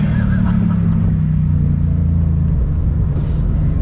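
A 2021 Shelby GT Speedster Mustang convertible's engine pulling on throttle, a loud, steady low rumble with a deep drone that dips slightly near the end, heard close from inside the car.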